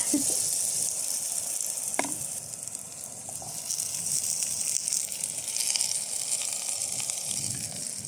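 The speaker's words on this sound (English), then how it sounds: "I've got some garlic and onion that I fried up in a little bit of oil" Garlic and onion fry in a little oil over a camp stove outdoors on a Dartmoor hiking trip, giving a steady close sizzling hiss with a few faint clicks and no talking.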